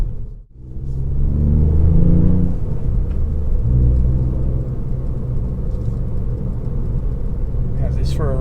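A Ford Fiesta ST Mk8 drives along a road, its engine and tyre rumble steady and close from inside the cabin, with a voice talking over the top.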